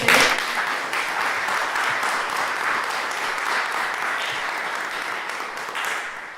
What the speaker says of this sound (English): And I think we can give PE a round of applause.